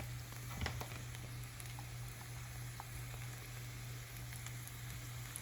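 Tortillas frying in butter give off a faint, steady sizzle with scattered small pops and crackles, continuous throughout without any talk, over a low constant hum.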